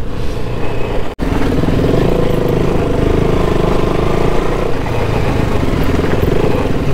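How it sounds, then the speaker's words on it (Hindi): A KTM RC390 motorcycle engine drones loud and steady at close range on a road in Jhanjra, Durgapur, as riders pull wheelies, its pitch shifting slightly, cut by one brief dropout. "भाई यहाँ वीली मार रहे बीच पे आ जा रहे लोग"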